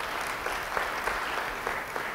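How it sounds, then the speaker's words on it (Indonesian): Church congregation claps steadily in a continuous, fairly distant wash of applause, with no talking over it. "Beri tepuk tangan bagi dia."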